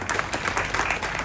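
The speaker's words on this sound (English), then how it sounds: "I think she deserves a bigger round of applause." Audience applause at an organ donation awareness open-mic session, a brief burst of steady, fairly close clapping from a room of people.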